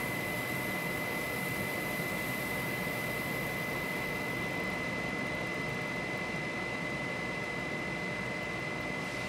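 An electrostatic magnetic levitation corona motor spinning down from over 3,500 RPM, a loud constant airy hiss and whine with a steady tone whose upper hiss fades partway through.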